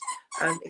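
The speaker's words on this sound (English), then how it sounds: "That's my dog playing with her toy," A dog plays with her toy indoors, giving two quick squeaky, yelping bursts, close and fairly loud.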